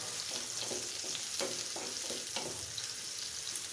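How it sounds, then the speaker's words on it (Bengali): Chopped onion sizzles in hot oil in a pan with a steady, even crackle and a few faint stirring knocks. No voices. "প্যানে দিয়ে দিলাম তেল, দিয়ে দিব পেঁয়াজ কুচি"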